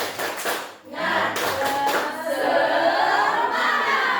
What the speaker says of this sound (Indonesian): Sekarang lagi tepuk semangat